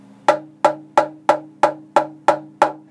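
The coated half of a walnut and cedar guitar from a 1950s Kay jazz guitar rebuild is tapped eight times at an even, steady pace, each knock ringing briefly with a distinct higher pitch and clear tone, alone.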